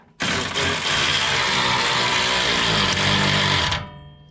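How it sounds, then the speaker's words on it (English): Power tool or impact driver tightening bolts on the transmission mounts of a 2020 Polaris RZR XP Turbo, a steady, loud continuous whir running nearly four seconds before stopping, close by with no talk. "we're just tightening bolts on the mounts."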